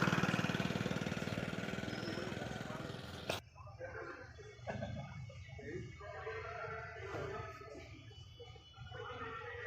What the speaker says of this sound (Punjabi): ਇਹ ਪੰਜਾਬ ਦਾ ਸਭ ਤੋਂ ਵੱਡਾ ਟਰੈਕਟਰ ਆ